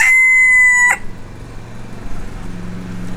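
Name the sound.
Wyandotte bantam rooster, dun mottled, crowing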